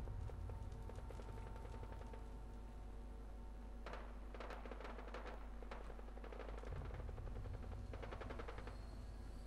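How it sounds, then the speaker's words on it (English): Bursts of rapid gunfire in the video game Fallout 4, sharp cracking volleys clustered in the middle and near the end, faint and somewhat distant over a steady low hum. "Where the hell's the gunfire coming from?"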